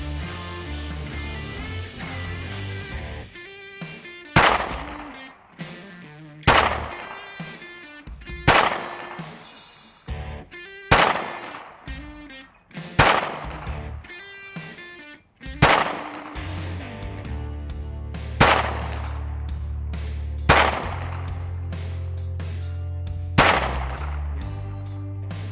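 A B&T USW conversion on a Glock 17 pistol fires ten sharp, loud shots outdoors at a target range, spaced about two seconds apart, each with a ringing echo tail.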